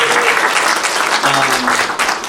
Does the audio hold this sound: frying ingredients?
no